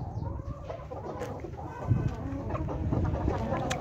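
Amroha Aseel rooster of the Thunder breed clucking at close range, low throaty calls repeating over a steady murmur of farmyard background.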